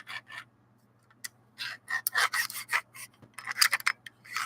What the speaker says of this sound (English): So I'm putting the bolt all the way in like this, right?